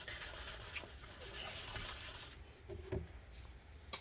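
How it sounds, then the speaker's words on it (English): Close, continuous scratchy rubbing as adhesive residue is scrubbed off a 15-inch Retina MacBook Pro A1398 2012 battery, a steady dry friction sound with faint strokes and no talk. "when you go ahead and rub it again, it should come out a lot easier"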